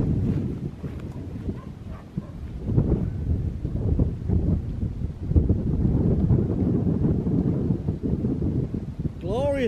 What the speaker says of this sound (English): glorious day. It's a bit windy,